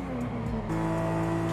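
A Skyline fitted with a V8 in Forza Horizon 5 hums at a steady, sustained engine note with a brief pitch shift. No one talks.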